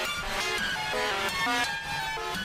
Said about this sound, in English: add a flanger here with a random shape